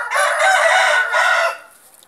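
A giant rooster with an injured leg lets out one loud, close crow in the morning that trails off, with no talking around it.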